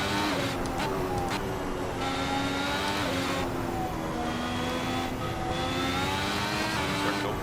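A race car engine in Assetto Corsa on the Vietnam Grand Prix circuit drops through the gears, its steady loud buzzing note stepping down with brief blips between shifts, heard up close and alone.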